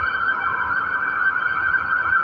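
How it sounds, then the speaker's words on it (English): A siren wails steadily at a moderate distance, a sustained tonal whine with slight wavering, no talking. "pause for this siren here"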